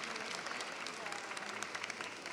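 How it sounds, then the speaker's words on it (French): Audience at a conference talk on building rehabilitation applauding a speaker, with continuous dense clapping and voices mixed in. "Vous pouvez l'applaudir"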